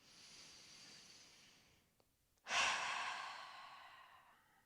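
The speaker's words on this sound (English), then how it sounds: "Take a big breath in and a big breath out." Deep breathing at the close of a yoga session, a slow soft inhale followed by a brief pause and then a louder, longer airy exhale, close and alone.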